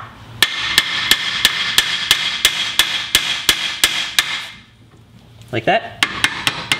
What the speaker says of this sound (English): grab a ball peen hammer and hit the side of the knuckle right here